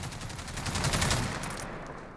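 An MG5A2 machine gun in Call of Duty Modern Warfare fires one continuous, loud rapid-fire burst lasting about two seconds before tailing off.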